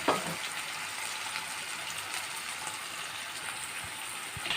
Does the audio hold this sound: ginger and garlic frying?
yes